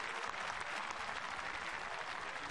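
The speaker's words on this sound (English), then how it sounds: "Giulia BONGIORNO getting good applause." Steady crowd applause for a speed skater being introduced before a women's 500 m sprint final at the World Games, even and continuous but fairly distant and soft.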